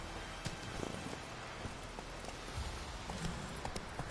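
Horse hooves clip-clop at a steady walking rhythm in Witcher 3, fairly faint and mixed with soft game ambience, no talking.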